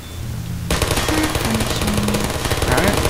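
Turret gunfire in the Portal video game crackles as a sustained rapid burst, starting abruptly and staying loud and close to the end.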